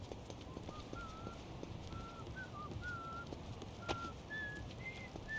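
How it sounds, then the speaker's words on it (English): In the video game Like a Dragon: Infinite Wealth, someone whistles a faint, distant tune of short melodic phrases over a low background bed of game ambience, with no talk. "Who's whistling like that?"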